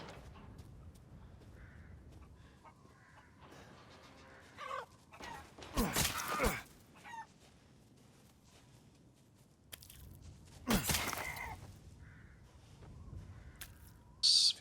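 Chickens clucking in Resident Evil Village, a few scattered short bursts of clucking and squawking over a quiet game ambience, with two louder broadband hits midway and another near the end.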